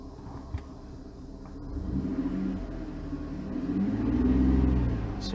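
A car engine rumbles into life and revs, the low drone building toward a louder, steady roar in the later seconds while an OBD2 Bluetooth scanner reads RPM and temperature.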